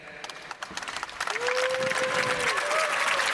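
An arena show audience claps to cast a vote. Sparse claps swell after about a second into steady, fairly loud applause, with a sustained whistle-like tone riding over it.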